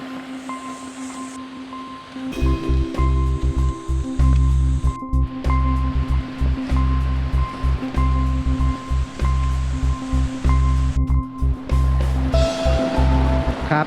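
Water rushes steadily at Khun Korn waterfall in Chiang Rai, a loud continuous roar of flowing, splashing water that holds throughout with no voices.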